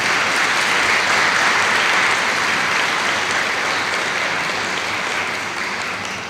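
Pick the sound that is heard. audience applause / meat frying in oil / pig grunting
audience applause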